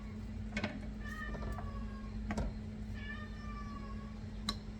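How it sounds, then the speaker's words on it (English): A cat meowing in a home kitchen while meatballs cook, several short drawn-out meows spaced across a steady background hum, fairly faint and alone without talk. "My cat's having an issue."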